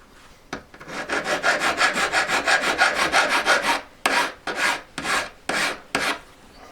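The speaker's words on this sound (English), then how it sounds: "So I'll literally just hold it on my peg and start filing away that edge." A hand file rasps along the edge of a ring held against a bench peg, a fast run of even back-and-forth strokes followed by slower, separate strokes, close and alone with no talk.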